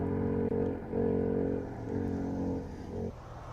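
A hill climb race car at the Simola Hillclimb King of the Hill event goes on and off the throttle. Its loud, buzzing engine note swells and dips several times as the driver feeds power in and lifts off.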